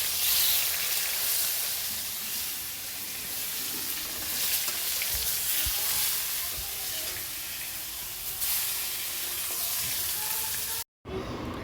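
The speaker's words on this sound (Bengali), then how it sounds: "মাছ ভাজা হচ্ছে, মায়ের ভোগে দেওয়া হবে।" Fish frying in a pan for a home puja offering, a steady broadband sizzle running throughout with occasional stirring, cutting off briefly near the end.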